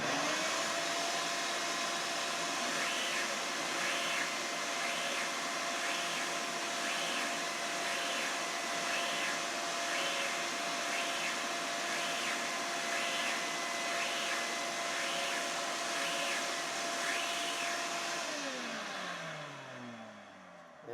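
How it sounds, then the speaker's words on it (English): A shop vacuum connected to a sander roars steadily and loudly with a faint rhythmic pulsing, its motor winding down near the end. "I noticed that there's a lot of noise from the vacuum here."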